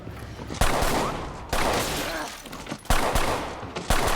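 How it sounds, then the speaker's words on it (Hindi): Loud gunfire in a dramatic sound effect, with heavy booming bursts at irregular intervals and a rumbling tail after each, close and forceful. "जिमिन यून को शांत करने की कोशिश कर रहा था, पर गन की आवाज़ और भी तेज़ हो रहा था और भी पास से सुनाई दे रहा था।"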